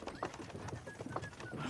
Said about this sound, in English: Can't you make the horses go a little faster